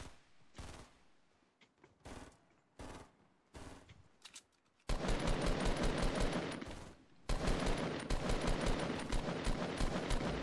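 Rapid automatic gunfire in a two-player video game shootout, a few scattered bursts at first, then dense, loud sustained firing that fills the second half with only a brief break.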